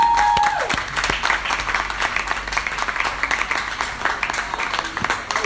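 An audience at a business conference claps steadily for several seconds, a dense patter of hands with no voices standing out.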